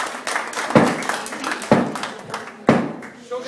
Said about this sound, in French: merci, on les applaudit